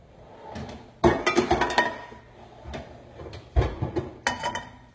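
A skillet pulled out from among pots and pans, a run of close metallic clanks and clatters in two or three short clusters, no talking.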